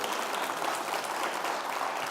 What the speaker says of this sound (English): Thank you for the applause. That's worth applauding.